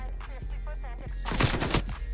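The nail gun in the video game Black Ops Cold War fires several sharp clattering shots in a quick cluster near the end, preceded by quieter game sounds and a short burst of voice.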